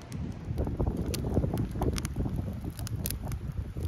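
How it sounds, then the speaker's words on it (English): Steady outdoor wind hisses and rumbles softly across a wet campsite where a fire is being started, a low continuous whoosh with slight gusting and no speech. "It's windy"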